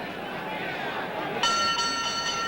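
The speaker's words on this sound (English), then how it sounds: "And there's the bell." A boxing ring bell rings out to end round six of a world welterweight title fight between Billy Backus and Jose Napoles, a bright metallic clang with a ringing tail cutting through steady crowd noise and arena chatter.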